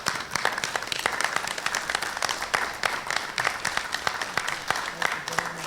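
Audience applauding for a Vietnam veterans organizer, sustained clapping from a crowd with sharp individual claps standing out, steady and fairly close for several seconds.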